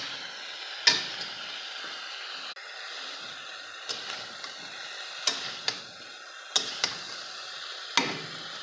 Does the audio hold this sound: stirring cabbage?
yes